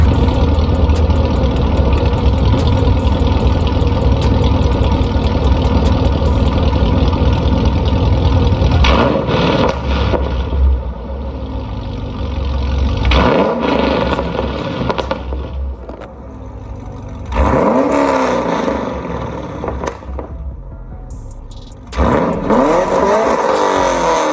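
A loud car engine with catless headers rumbles and idles close by, with sharp revs rising and dropping several times, the exhaust raspy and aggressive.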